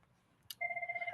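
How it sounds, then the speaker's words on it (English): An office telephone starts ringing after a brief click, a steady electronic warble with two bright tones pulsing rapidly, moderately loud against a quiet room. "apologies for the phone ring in my office"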